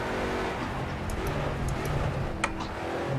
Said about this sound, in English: This car sounds nice, got a little bit more grunt to it.